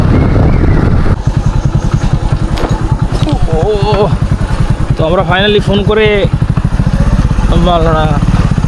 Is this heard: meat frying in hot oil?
no